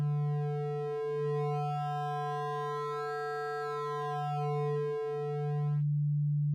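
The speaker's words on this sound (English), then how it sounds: "right now I am outputting as a sine" A Befaco oscillator module in VCV Rack, set to a sine output, holds a steady, loud electronic tone that swells slightly in the middle and then stops abruptly near the end.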